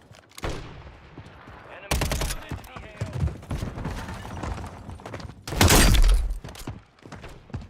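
Gunfire in the video game Call of Duty Warzone: loud bursts of shots at about two seconds and again around six seconds, with scattered rattling and thuds between them and a low game soundscape underneath.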